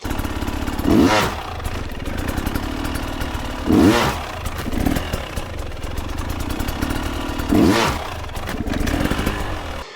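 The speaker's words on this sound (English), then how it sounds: "The quick descending RPM sound should sound the same every time, even when the front tire lifts." A motorcycle engine revs hard in three sharp bursts, each dropping quickly in RPM, during a wheelie-style riding drill where the front tire lifts. The engine runs steadily between the loud revs.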